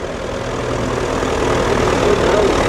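A 1962 Fordson Major DDM vintage tractor at a rally idles with a steady low rumble, close and constant throughout, with no pauses.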